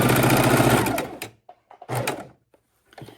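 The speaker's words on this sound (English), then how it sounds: "we're going to sew our 1/4 inch seam all the way around." A sewing machine stitches a quarter-inch seam through layered fabric for a keychain wallet, running in a fast rapid burst, then stopping, followed by short restarts and small clicks close by.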